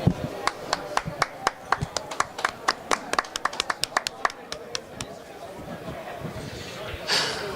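Scattered hand claps from a small audience at a Swanee 18 match between Jenny Lee and Alex Kjorline, sharp and irregular, thinning out over several seconds while people chatter quietly underneath.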